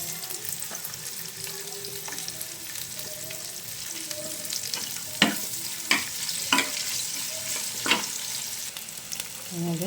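Onions fry in reused cooking oil in a pan, a steady close sizzle and crackle with a few sharp clinks of a utensil against the pan.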